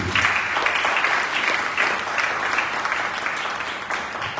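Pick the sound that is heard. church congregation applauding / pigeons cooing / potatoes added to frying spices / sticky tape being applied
church congregation applauding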